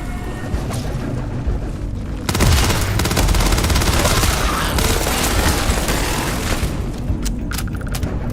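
Minigun firing in Starfield: a loud, continuous high-rate roar begins abruptly after a quieter stretch and runs for several seconds before easing into scattered metallic clicks and rattles.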